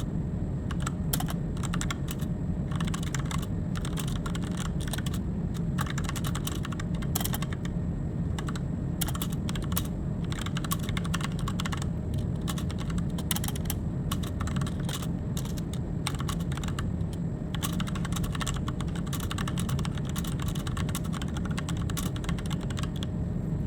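Continuous typing on a computer keyboard while entering post content, a steady close patter of keystrokes with brief pauses, no voices.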